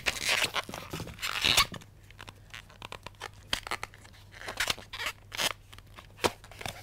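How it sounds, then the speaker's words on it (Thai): Scissors snip off the leftover scraps of a latex balloon from a balloon-twisting rose, giving close, crisp cutting and crinkling sounds in irregular bursts. "เอากรรไกรตัดเศษทิ้งให้เรียบร้อย"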